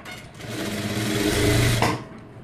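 A sewing machine stitches a blouse seam in a quick motorized whir that builds for about a second and a half, then stops abruptly with a soft click.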